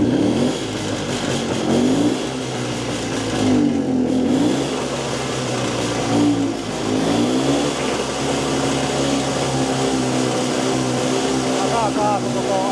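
A Jawa 250 motorcycle on a test ride, its engine revving up and down in repeated rising and falling surges, loud and close with wind rumble and some voice mixed in.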